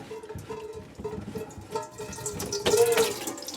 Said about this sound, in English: this is where your water starts to come out.